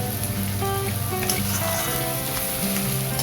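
Capsicum and onion sautéing in a pan for pav bhaji, a loud, continuous dense sizzle with no pauses or voices.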